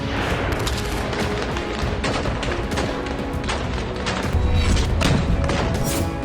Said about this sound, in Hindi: गाजा की तरफ से इजराइल में लगातार रॉकेट फायर किए जा रहे हैं